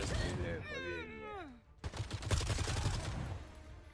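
Rapid gunfire bursts rattle in the online shooter Caliber, a dense string of loud close shots in the second half after a stretch where someone speaks over the game sounds.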